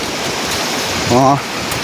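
Water runs steadily in a flowing stream with a constant rushing hiss, and a voice speaks briefly over it.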